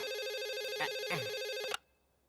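Telephone ringing over a speakerphone call, a loud, steady electronic ring tone that holds for under two seconds and then cuts off abruptly, with faint background sounds underneath.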